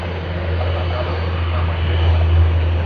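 Qantas airliner on flight QF 19 departing Sydney for Manila, a brief steady low engine rumble with a heavy droning hum throughout, fairly loud.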